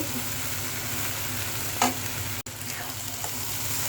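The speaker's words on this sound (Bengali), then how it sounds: "আলুটা কেটে নিলাম এখন ভাজিটা বসিয়ে দিয়েছি" Potato bhaji frying in a pan for a breakfast of paratha, a steady soft sizzle with one brief louder stir or clatter midway and a sharp click afterward, close by, no talking.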